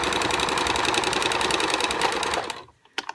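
A domestic sewing machine stitches along the presser foot edge of a fabric face mask, a steady rapid mechanical whir with fast needle clatter for about two and a half seconds, then stops, leaving a few faint clicks.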